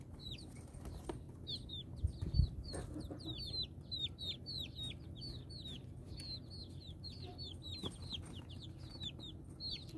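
Chickens cluck and chirp steadily inside a coop, a dense ongoing chorus of short calls with a few soft flaps and bumps, close by and without talk.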